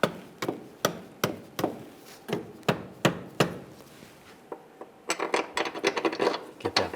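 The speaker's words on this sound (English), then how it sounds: "Just give it a little tap with a rubber mallet." A rubber mallet taps on a rear engine mount of a 2013-2016 Dodge Dart 2.4L, giving a series of dull, close knocks at an uneven pace that quicken into a rapid flurry of lighter taps near the end.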